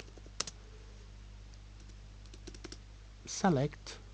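Typing an SQL query on a computer keyboard: a few sparse key clicks spread across the moment, faint and close, with a brief louder burst of sound near the end and steady low hum beneath.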